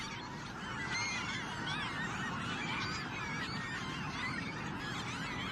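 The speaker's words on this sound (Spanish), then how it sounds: "Sin duda, las gaviotas de Franklin" A large flock of Franklin's gulls calls at a coastal lagoon in Chile, a dense, continuous wash of overlapping nasal cries and honks with no voices over it.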